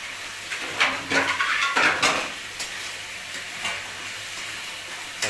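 A spoon scrapes and stirs through gravy sizzling in a pan, producing a few brief bursts of clatter over a soft steady frying hiss, close by and fairly quiet.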